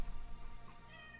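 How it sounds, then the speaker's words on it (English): An angry house cat meows close by in a short, strained, drawn-out cry over a low background hum, with no talking. "My cat is angry and will not listen to me right now."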